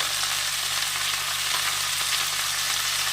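Vegetables with prawns, pumpkin and Malabar spinach sauté in a pan with a continuous, even, close sizzling hiss and faint stirring underneath, loud and steady throughout, with no talking.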